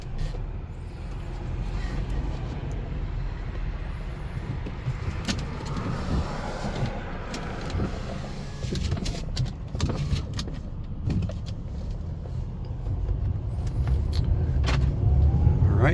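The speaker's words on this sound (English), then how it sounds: "gonna go for a test drive here." A black 2019 Mercedes A220 on a test drive gives a steady, continuous rumble of engine and road noise that swells slightly toward the end, with occasional light rattles and no talking.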